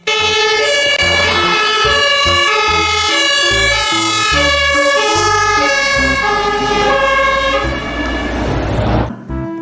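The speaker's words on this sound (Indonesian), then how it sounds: "Yang ini ada mobil pemadam kebakaran." A toy fire truck plays a loud, continuous electronic siren with a stepped, repeating tone pattern close to the listener.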